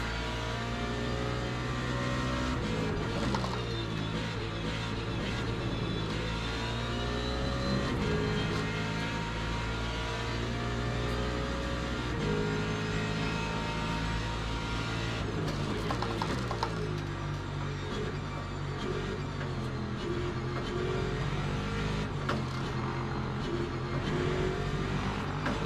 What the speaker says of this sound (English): that Beamer sounds mad. That Beamer sounds really good.